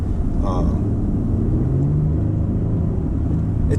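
A deep, throaty twin-turbo V6 engine of a Lexus LX600 SUV rumbles steadily and loudly from inside the vehicle, with a faint rising whine midway.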